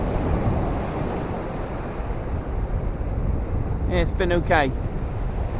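Steady wind and surf roll along the beach at Sutton on Sea, a broad continuous wash that fills the whole stretch, with a brief spoken line breaking in near the end.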